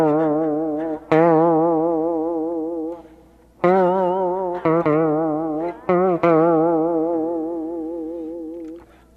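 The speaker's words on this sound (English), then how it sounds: "I'll show you it with the slide because it sounds like they're using one." Electric guitar played with a slide: sustained, gliding notes with wavering pitch and effects-laden tone, several phrases separated by brief breaks and restruck attacks, loud and alone.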